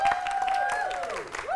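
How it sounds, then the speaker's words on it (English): A studio audience at an improv comedy show claps and cheers briefly to vote for a performer, a short, close burst of applause with some voices mixed in. "clap if you want Spencer to stay"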